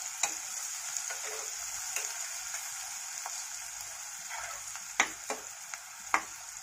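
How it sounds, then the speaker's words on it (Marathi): Onion fries in a pan for Maharashtrian masale bhat, a steady gentle sizzle with a few sharp spoon clicks and scrapes as it is stirred, no voices present. "कांदा चांगला मऊ सूत होतपर्यंत आपल्याला चांगला परतून घ्यायचं."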